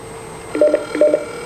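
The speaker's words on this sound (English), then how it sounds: "I just dialed my office phone." Two short bursts of telephone keypad dialing tones sound on a Samsung OfficeServ MOBEX system, clear beeps over a faint steady hum.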